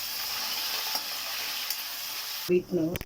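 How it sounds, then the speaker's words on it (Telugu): Turmeric being stirred into beetroot rice in a pan, a steady soft sizzle with scraping, followed by a brief voice at the end. "ఇప్పుడు వీటిని ఒకసారి ఇలా కలుపుకున్నాము"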